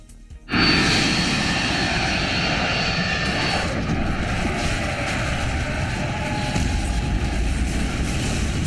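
An Air India Boeing 787 Dreamliner takes off from Ahmedabad airport with a loud, sustained engine roar that starts abruptly and holds steady at close range, with broad rumbling jet noise throughout.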